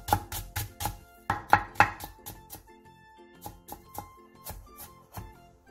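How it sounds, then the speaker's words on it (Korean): A knife chops green onion on a board in quick bursts of sharp, close taps, a fast run, a pause, then slower spaced cuts, with no one speaking. "대파 3분의 1개를 쫑쫑 썰어주세요"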